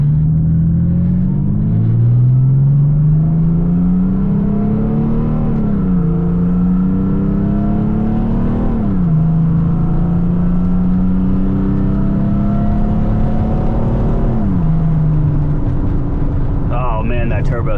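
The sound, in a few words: turbo diesel Mercedes 3-liter inline 6 accelerating, inside cab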